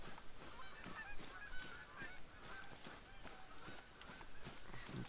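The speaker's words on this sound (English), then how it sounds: "More geese." Geese honk repeatedly in the hunting video game Hunter Call of the Wild, set in the Yukon, a chorus of quiet, distant calls over faint rustling footsteps.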